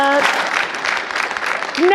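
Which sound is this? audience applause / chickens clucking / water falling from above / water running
audience applause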